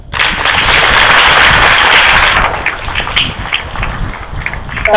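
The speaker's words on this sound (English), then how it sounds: "Can you clap better?" A church congregation at a Brisbane service claps hard together, a loud, dense burst of applause that fades to scattered, thinner clapping over a few seconds.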